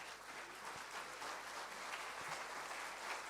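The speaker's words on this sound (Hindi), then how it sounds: "एक बार सभी लोग अपने स्थान पर खड़े होकर जोरदार तालियां बजाकर" A standing audience gives loud applause after a lecture, a steady wash of many hands clapping heard from a distance, faint and evenly sustained throughout.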